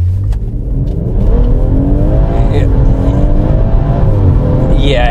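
A BMW M140i fitted with a Wavetrac limited slip differential launches hard on a bumpy road, its engine note climbing steadily under load, loud and heard from inside the cabin.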